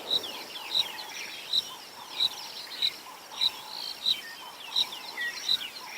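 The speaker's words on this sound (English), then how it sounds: "Still a few insects that are awake as well, some of the nocturnal insects like crickets." Regular high cricket chirps repeat about once a second over a steady insect drone at dawn on an African safari, with softer birdsong scattered in the background of an open outdoor space.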